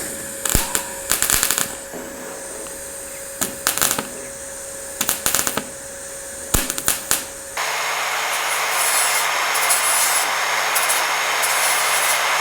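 Rusty metal of an old vehicle cabin being hand-sanded before epoxy primer, in short bursts of scraping strokes with pauses, then a steadier hiss-like background for the last few seconds.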